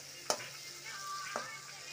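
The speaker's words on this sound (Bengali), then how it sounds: "এটা আমি ততক্ষণই কষাবো যতক্ষণ এর মধ্যে থেকে হালকা হালকা তেল ছাড়ে" Spice paste (masala) frying and stirred in a pan, a soft low sizzle broken by two brief scrapes of the spoon against the metal, fairly quiet and close.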